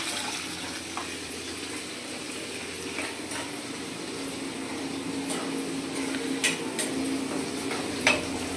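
Onion pieces, curry leaves and other ingredients for bitter gourd pulusu fry in a pan with a steady low sizzle, broken by occasional utensil taps and clicks, fairly faint and close.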